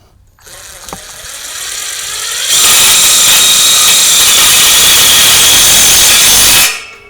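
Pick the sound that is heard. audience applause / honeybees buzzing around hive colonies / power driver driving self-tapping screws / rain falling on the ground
power driver driving self-tapping screws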